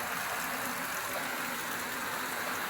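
Heavy rain pouring down in a farmyard during summer, a dense, continuous hiss of falling water, fairly soft and steady with no voices.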